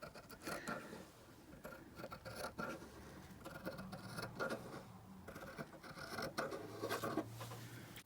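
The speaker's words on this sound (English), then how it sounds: "The first thing I'm going to do is cut off this rough edging" Scissors cut the rough edging off fabric while a doll dress is made, a quiet, close series of irregular snips and rustles, alone without talk.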